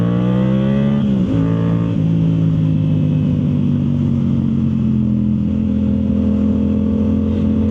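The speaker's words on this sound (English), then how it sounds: "Can hear the backfire." Yamaha YZF R7 motorcycle with a Yoshimura full exhaust, engine note rising then dropping with a shift, settling into a loud steady drone heard up close while riding; no distinct backfire pops stand out.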